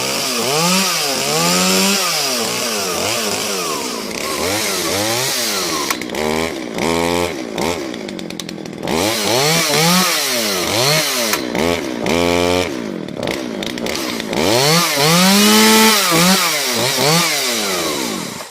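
An OlioMac chainsaw runs after repair, loud and close, its engine revved up and down repeatedly in sweeping rising and falling whines, with brief idle dips between bursts.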